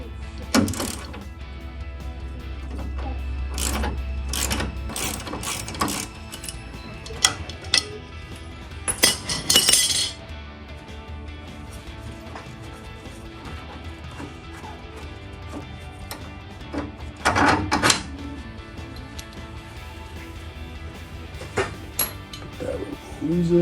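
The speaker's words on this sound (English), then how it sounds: "I'm gonna use this big crescent wrench" A big crescent wrench works a control arm bolt on a 2019-2024 Chevrolet Silverado 1500 during an upper control arm install, giving scattered metallic clinks and ratcheting clanks among quieter handling noises.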